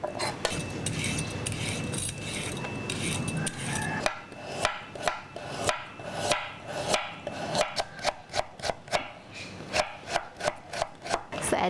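A knife slices vegetables thinly for kimchi on a board, a steady run of crisp rhythmic chops that grows quicker and more regular after a softer, rubbing start.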